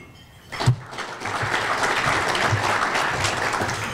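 Audience at a chamber of commerce monthly luncheon breaks into steady applause that swells quickly and holds at an even, dense level throughout, filling the room without any voices over it.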